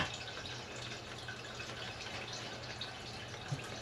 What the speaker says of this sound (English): It is draining out.